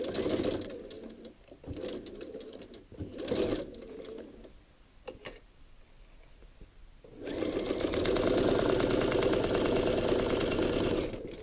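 A sewing machine stitches quilt binding in short bursts of rapid whirring, then pauses, then runs a longer steady stretch, close and loud.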